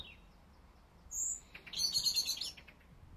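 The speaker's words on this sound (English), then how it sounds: "And you can hear all the birds as well." Birds singing outdoors in early summer among blooming flowers: a couple of high, clear chirps and then a quick twittering phrase, faint against a quiet background, no talk.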